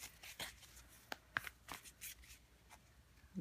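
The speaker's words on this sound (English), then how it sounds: "So let's keep shuffling" Tarot cards being shuffled by hand, a quiet run of soft riffling swishes and papery flicks with a few sharper slaps, close and alone without talk.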